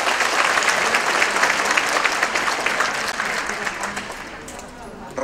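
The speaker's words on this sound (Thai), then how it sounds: "ปรบมือให้กับคนสุพรรณทุกท่านครับ" Sustained applause from a large audience at an outdoor Suphanburi celebration honouring local artists and singers, dense and loud throughout and thinning slightly toward the end.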